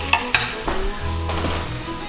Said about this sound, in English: See how we're getting that nice little sizzle there?